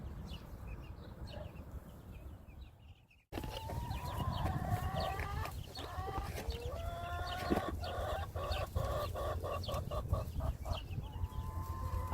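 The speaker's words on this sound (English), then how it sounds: "Hey, look at my chicks." Chickens cluck and squawk in a backyard coop, starting with faint rustling before a loud burst of layered clucking and calls that continues close by to the end.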